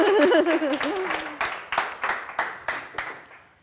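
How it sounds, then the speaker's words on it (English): A small round of applause at an art academy awards event, starting as dense clapping under a voice, then thinning into a handful of distinct, spaced hand claps that fade out. "Can we get another small round of applause here?"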